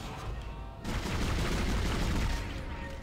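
Gunfire in the video game Dead Space rattles out in loud, dense, continuous bursts that thicken after a brief lull, filling the whole moment.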